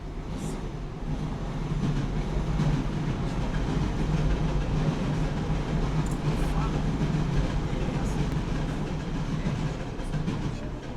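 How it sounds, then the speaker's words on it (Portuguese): A train passes nearby as a loud, steady broadband rumble and roar that fills the whole stretch, swelling slightly and then easing off toward the end. "O trem passou, o som do vídeo sumiu."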